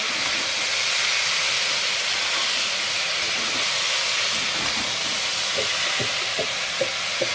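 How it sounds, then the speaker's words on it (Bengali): Boiled taro flowers fry lightly in a pan, producing a steady hissing sizzle close by with a few soft crackles and stirring knocks toward the end, no talking. "কচু ফুলটাও হালকা ভাজা ভাজা করে নেব।"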